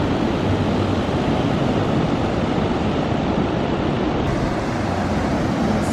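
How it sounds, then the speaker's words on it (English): Ocean waves roll in a steady, unbroken wash of surf at the shore, loud and constant throughout, with no voices. "just enjoy the sound of the ocean"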